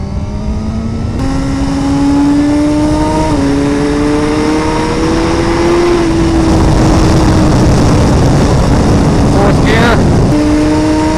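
A 2017 Suzuki GSX-R1000R is ridden through twisty roads with traction control set to 2, its engine droning loud and close over heavy wind rush, pitch climbing and dropping through several gear changes.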